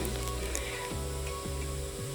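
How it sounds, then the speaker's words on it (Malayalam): Washed rice frying in ghee for chicken biryani, a steady close sizzle with low periodic stirring scrapes every half second or so, with no talking. "ഒരു 2 മിനിറ്റ് ഈ നെയ്യിലിട്ട് നന്നായി വറുക്കുക"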